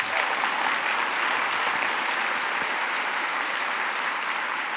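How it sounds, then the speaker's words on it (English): Sustained applause from a conference audience after a presentation, a thick, even wash of many hands clapping that holds steady throughout. "that presentation by Lizzie deserves another round of applause"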